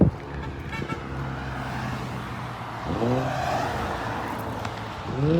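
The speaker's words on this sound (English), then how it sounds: "Why do people just honk at people?" Car horns toot repeatedly over steady road traffic noise, with a couple of sharper honks near the middle and end.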